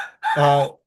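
Rooster crowing once outdoors in Hawaii, a loud, clear, drawn-out call lasting under a second, heard alone.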